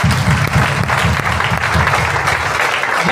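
A crowd claps steadily and loudly at an RCM network marketing event, dense applause for a few seconds with a faint voice underneath.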